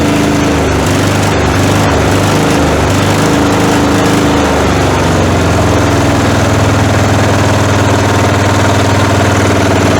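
WEIMA diesel walk-behind tractor engine running just after a cold start at minus five degrees, loud and close, with a steady hard knocking throb whose pitch shifts partway through as it settles into a smoother idle.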